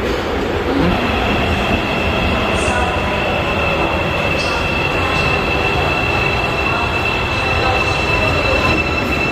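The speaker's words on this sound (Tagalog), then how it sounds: "So the train is here." A train pulls into Incheon Airport station with a loud, continuous rumble, squealing wheels and faint clicking rails, steady from start to finish; a voice speaks briefly beneath it.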